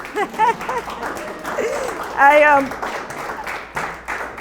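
Audience applause for a curator called up at an exhibit event, a steady patter of clapping running through the whole moment with voices calling out and talking over it.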